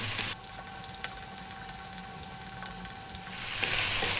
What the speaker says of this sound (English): on this lively heat, you need to be stirring pretty much all of the time